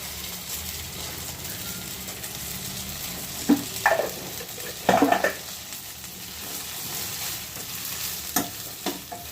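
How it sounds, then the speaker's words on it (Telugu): Eggplant frying in a pan and being stirred as chili powder is added, a steady hiss with a few louder scraping stirs scattered through, no voices. "వంకాయలన్నీ చక్కగా వేగిన తర్వాత ఇప్పుడు మనం ప్రిపేర్ చేసుకున్న కారం ఉంటుంది కదా, కారం మొత్తం వేసుకోవాలండి"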